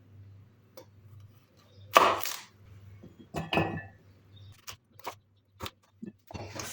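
A few sharp knife chops on a board while cutting turnips into pieces for turnip juice, isolated close knocks spaced irregularly over a low steady hum, with quiet talk between.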